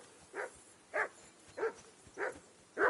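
A dog in a video game barks five times at roughly even intervals, short clear woofs standing alone against a quiet background.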